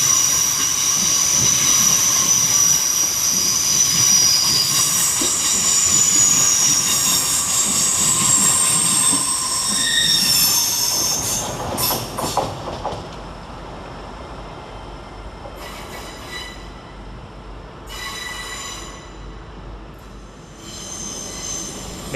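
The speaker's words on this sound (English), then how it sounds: "going off in the opposite direction is 802 107, working the 1700 Great Western Railway service to Bristol Temple Mead" Great Western Railway class 802 unit 802 107 pulls out of London Paddington on a Bristol Temple Meads service, with high wheel squeal and hiss over a low rumble that fades, leaving brief squeals and station ambience.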